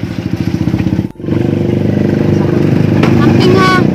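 A motorcycle rides along steadily with a pulsing engine note, loud and close throughout, with chatter and wind noise mixed in; a brief dip near the one-second mark interrupts the drone.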